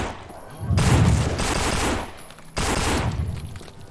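Gunfire in the zombie shooter No More Room in Hell: two loud bursts of rapid shots, the first about 1.3 seconds long and the second shorter, close and harsh.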